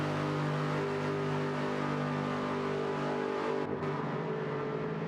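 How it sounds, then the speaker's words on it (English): An Aston Martin race car engine in a sim racing video game hums steadily at low speed on the Kemmel Straight, a loud continuous drone with a brief dip near the end. "Just listen to that engine as well."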